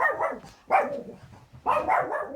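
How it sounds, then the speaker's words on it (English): A big guard dog barks three times in a loud, close sequence, each bark rough and evenly spaced about a second apart, with no talking over it. "We have a big guard dog here, a watchdog, so be very afraid."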